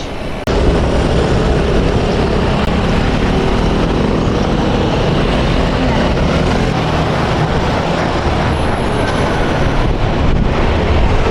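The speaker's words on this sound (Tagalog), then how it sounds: "Ang hangin pati." Strong wind buffets the microphone during a bike ride on Yangming Shan Mountain, a constant loud roaring rumble that fills the whole stretch without letup and with no talk.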